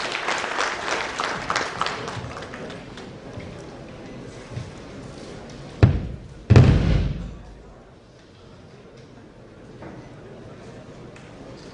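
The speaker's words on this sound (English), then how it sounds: "Can we have a round of applause for Shri M.S." Audience applause at an inaugural ceremony in Odisha: dense clapping from a large crowd that fades out, with a couple of loud thumps near the end and quieter room noise afterward.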